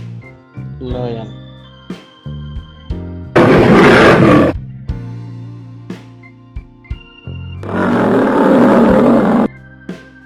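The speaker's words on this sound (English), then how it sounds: "Lion." A lion roars twice in two loud, sustained bursts set among short musical notes and toy-like sound effects, part of an animal-sounds program for kids.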